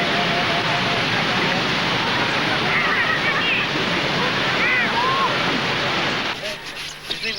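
Water rushes steadily over a weir as canoes pass through, a dense continuous roar that fills the clip before dropping away near the end, with faint voices beneath.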